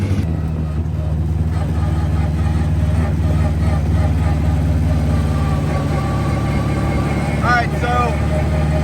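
A 1969 Austin-Healey Sprite race car with a race-build straight-cut gearbox idles steadily as it warms up, a loud, continuous low engine rumble close by, with a brief higher whine near the end.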